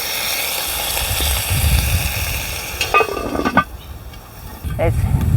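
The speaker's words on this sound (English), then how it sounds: "And now I'll put the lid back on." The metal lid of a camp oven, with chicken and vegetables roasting over coals outdoors, is set back in place: a short clatter and scrape of metal, then a final clank over a soft sizzling hiss.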